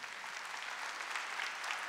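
Audience applause at a church gathering, a steady, fairly faint patter of many hands clapping that holds evenly for a couple of seconds.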